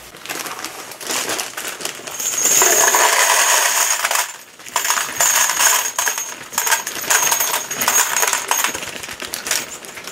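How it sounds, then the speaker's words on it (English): Spent 10mm Auto brass cases pour and clatter into a reloading tray, a dense metallic jingling cascade close by that surges, briefly pauses, then rattles on in bursts. "Don't you just love the sound of that brass going in there?"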